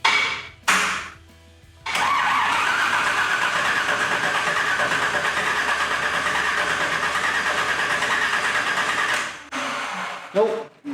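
A Toyota FJ45 engine cranking as it tries to start, a steady loud whirring crank running for several seconds without catching, with brief starter bursts before and after.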